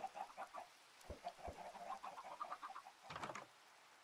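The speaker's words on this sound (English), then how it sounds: "All of the chickens." A flock of Minecraft chickens clucks busily and close, short overlapping clucks in a steady chatter broken by a few sharp thuds.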